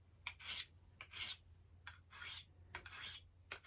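A thick knife blade rasps across the coarse side of a sharpening stone in about six separate strokes, each a bright gritty scrape with short pauses between, close and fairly quiet.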